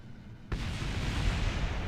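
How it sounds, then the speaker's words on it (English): A big explosion in the video game Kerbal Space Program erupts suddenly as a loud, sustained roaring rumble, with no talking over it. "that's a big explosion now,"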